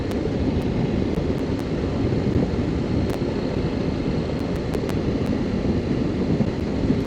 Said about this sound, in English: This bike she's just putting along. 5th gear, 43 miles an hour, 2200 RPM.